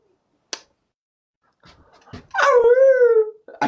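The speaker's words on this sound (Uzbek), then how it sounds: "bo'rilar mana" A single short, wavering howl in the style of a wolf rises and falls for about a second after a few faint knocks and rustles. It is fairly close and otherwise alone, with no talk.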